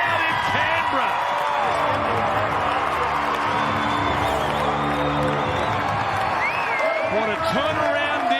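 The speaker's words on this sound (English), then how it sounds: "And so does this big crowd in Canberra." A big crowd cheering at a rugby league match in Canberra between the Raiders and St George Illawarra Dragons, a loud sustained roar with whoops and shouts rising over the stadium, a commentator talking over it.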